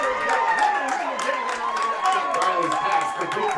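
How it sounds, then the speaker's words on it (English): Football crowd noise at a high school game between Mosinee and Tomahawk, a steady, fairly loud wash of voices and scattered shouts with a hint of clapping, continuous throughout. "This crowd trying to build up some energy here, saying we're not out of this yet"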